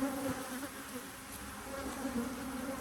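Honey bees buzzing in a hive during a split with queen excluders, a dense steady drone of many wings close by, unbroken throughout.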